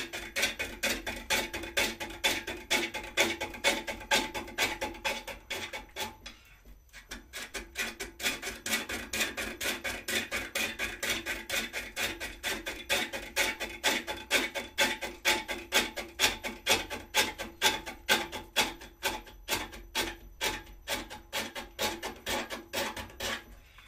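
A big wooden spindle turning on a lathe as the tool takes heavy shavings, making a continuous, rapid, rhythmic rasping scrape that runs close and steady throughout, with one brief break near the middle.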